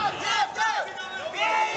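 A crowd roars and shouts at an MMA fight at the FOF 5 event, a loud, continuous surge of voices rising and falling, with commentary over it.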